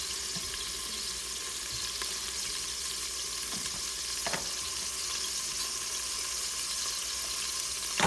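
Vegetables such as carrots and celery sautéing in a soup pot give a steady, close sizzle that runs unbroken, with a few faint clicks of stirring and no voices.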